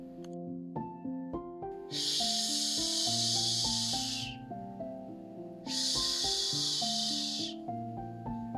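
A voice makes two long, steady hissing sounds imitating a goose or snake hiss, over light background music.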